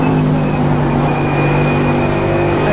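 A Mercedes-AMG GT3 racing car engine in iRacing on the Nordschleife roars steadily at high revs, a loud continuous drone with a sustained whine, no voices.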